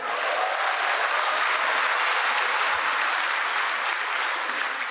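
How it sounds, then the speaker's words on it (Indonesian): Conference audience applauding for a performer, a dense, uniform wash of clapping that stays loud and unbroken for the whole stretch with no voices rising above it. "Tepuk tangan untuk Sleng"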